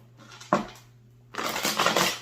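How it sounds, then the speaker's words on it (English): Tarot cards being shuffled by hand, a quiet short riffle followed by a louder, longer papery flutter of cards, heard close with no talking. "I'm going to give it a shuffle real quick."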